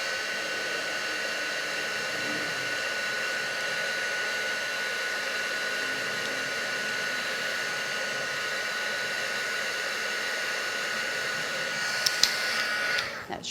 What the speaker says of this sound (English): bring in a heat tool. Just give them a quick dry.